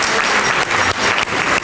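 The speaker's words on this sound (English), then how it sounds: "Let's give a warm round of applause to thank the Hilton team." A dinner audience at a community awards evening at the Hilton claps warmly for the Hilton team, a dense, steady burst of applause that lasts the whole short moment with only brief dips.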